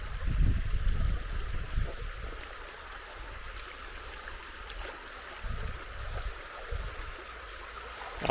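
Clear river water flows steadily outdoors on a riverside walk, a continuous low rushing and trickling with gentle surges, fairly close and alone with no voices.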